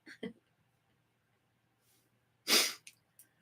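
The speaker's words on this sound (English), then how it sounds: "he's not fitting, he's sneezing" A sharp, forceful sneeze close by, preceded by a couple of short breathy sniffs and followed by a faint trailing sound.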